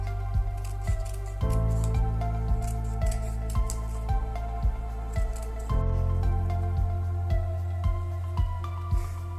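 Scissors cut a green paper strip in a series of regular crisp snips, each a short close click, over a steady humming tonal background.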